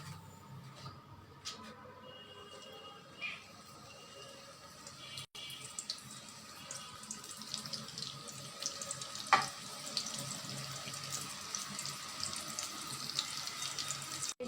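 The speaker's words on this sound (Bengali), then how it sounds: "একইভাবে সবগুলো ভেজে নেব।" A batch of potato-and-flour snacks sizzles in hot oil, giving a continuous, fairly close frying hiss with a few brief clicks and bumps, and no one speaking.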